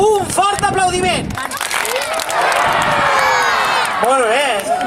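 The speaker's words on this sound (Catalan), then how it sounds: "A veure, provem-ho. Un fort aplaudiment." At a children's festival opening, an audience of adults and kids bursts into loud applause, with clapping buried under excited shouting and cheering voices that rise and fall across the crowd.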